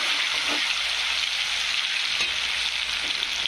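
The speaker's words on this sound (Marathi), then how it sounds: "परत तेलात टाकून तळायचा आहे आपल्याला." Onion, garlic, ginger and coriander sizzle and fry in hot oil in a wok for a dark chicken masala, a steady, loud hiss heard up close with a few faint stirring knocks and no voices.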